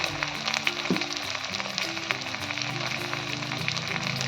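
Turmeric, chili powder, coriander powder and salt frying in a pan for a spicy tomato dish, giving a steady close sizzle with scraping stir strokes throughout, with no talking.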